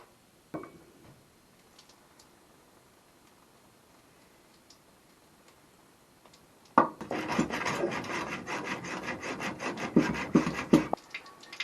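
A plumbing pipe is sawn after a quiet lead-in with a faint knock, then rapid rasping strokes start abruptly and keep up loud and close, rough and rhythmic, for several seconds, with no one talking.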